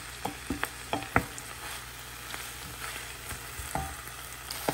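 In a frying pan, a spoon stirs low-carb turkey pot pie filling with vegetables, giving soft scrapes and clicks over a faint steady sizzle, close and fairly quiet, with no speech.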